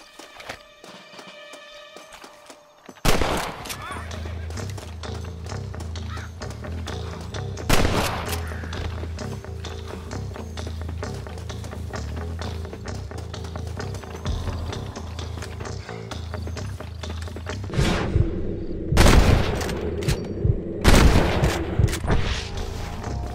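Gunfire in the Western video game Red Dead Redemption, loud sharp shots breaking in after a quiet start, then sporadic blasts and a cluster of close reports near the end over a steady rumbling game soundscape.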